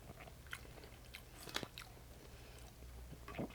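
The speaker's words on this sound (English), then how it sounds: "I want to see if I can handle a big bite." A mouthful of deshelled seafood boil is chewed close up, with soft wet chewing and a few crunchy bites, quiet overall and with no talking.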